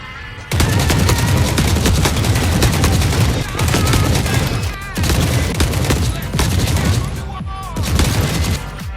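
Rifle fire in The Forever Winter, loud rapid automatic bursts close up, broken by brief pauses between long volleys, with dense crackling impacts throughout.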